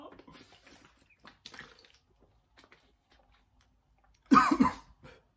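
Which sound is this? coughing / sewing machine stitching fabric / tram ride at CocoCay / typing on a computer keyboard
coughing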